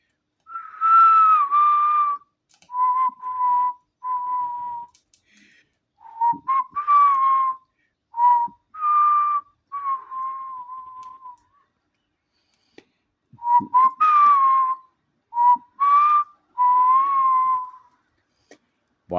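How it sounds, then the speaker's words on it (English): A person whistles a melodic tune outdoors during a summer solstice fire, in several bursts of warbling phrases separated by short pauses, clear and close with no talking. "I should drink something before I whistle"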